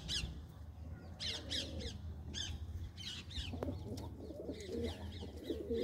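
Pigeons in a loft at a pigeon club give repeated cooing calls and sharper squawks in an irregular overlapping rhythm, fairly close but quiet, with no talk.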